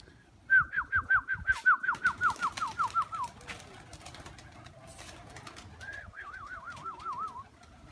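Pigeons at a loft give a run of rhythmic, pulsing coos, loud and close at first, then a softer trilling coo after a pause, with no one talking.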